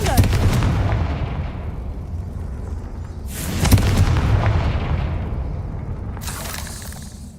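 Confringo blasting spell explosions in the video game Hogwarts Legacy, two sharp bursts with crackling debris over a rumbling low game backdrop, loud and close, no talk.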